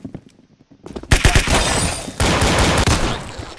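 Rapid gunfire bursts from a Roblox gun game, loud and dense, starting abruptly after a quieter first second of faint clicks and continuing as overlapping shotgun and automatic shots.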